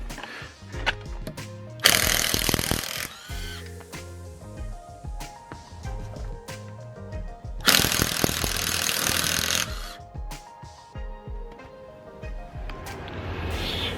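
A Draper Storm Force impact gun removes car wheel nuts, giving two loud, rattling bursts of hammering, each about a second or two long, with quieter clanks and handling noises between them.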